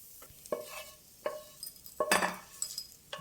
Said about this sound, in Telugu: వెల్లుల్లిపాయ కూడా కొంచెం వేగింది, ఇంకా చాలు, ఉడికిపోయింది.